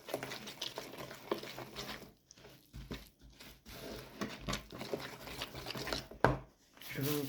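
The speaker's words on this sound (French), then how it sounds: "Je vais remuer ainsi jusqu'à la pâte devient solide." A utensil stirs flour into a thick doughnut batter in a bowl, making soft, irregular scraping and squelching strokes with brief pauses. The sound is close and fairly quiet.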